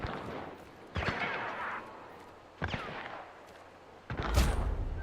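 Gunfire rings out in a shooter video game, three separate sharp reports spaced a second or more apart, each with a short trailing echo, moderately loud with no talking.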